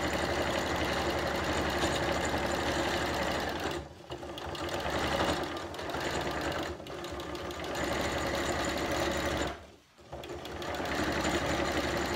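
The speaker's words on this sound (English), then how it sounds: "getting your eye in to the gap where you're needle is stitching and keeping that uniform as you go around" A sewing machine runs steadily while top stitching fabric around a turning gap, its motor whirring loud and continuous, with two short pauses where it slows at corners.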